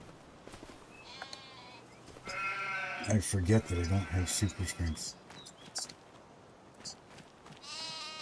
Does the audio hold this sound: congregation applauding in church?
no